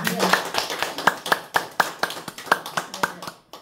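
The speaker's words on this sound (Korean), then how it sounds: "박수." Sparse clapping from a small audience at a lecture on autobiography writing at a university continuing-education centre, heard as a dozen distinct claps in loose rhythm at moderate level.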